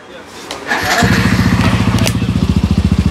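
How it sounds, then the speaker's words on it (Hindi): A Hero Xtreme 125R motorcycle fitted with an R1M long exhaust starts up and settles into a loud, close idle, with a rapid, deep, even thumping pulse from the exhaust. "अब मैं सुनाता हूँ आपको इसकी साउंड कि किस तरीके से इसकी साउंड आने वाली है"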